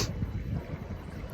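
Steady low rumbling wind buffets the microphone throughout beside the River Erewash, with a faint watery wash in the background and no voices.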